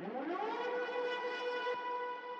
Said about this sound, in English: Add a siren playing the fifth note of your first bass note.